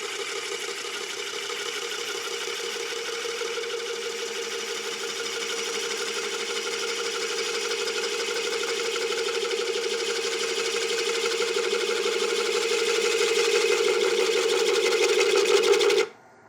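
Wood lathe turning a giant silky oak bowl, the gouge chattering and bouncing on a knot, producing a steady rapid mechanical rattle over a continuous hum that slowly grows louder before cutting off abruptly.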